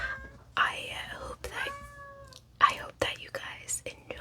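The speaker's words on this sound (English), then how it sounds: "Not my cat meowing." A house cat meows several times in short, clear calls at close range, mixed in among soft whispered talk in a quiet room.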